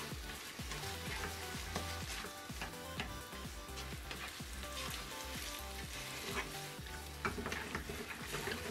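Pad thai frying in a pan with tamarind sauce, a steady crackling sizzle with repeated stirring scrapes and clatters that keep up a busy rhythm throughout.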